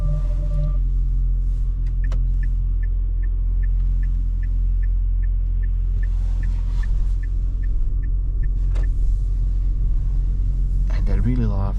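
A 2024 Dacia Duster Hybrid rolls out of a large garage, its low steady engine and road rumble continuous throughout, with faint repeated chime ticks and a closing mechanical whir; someone talks over it.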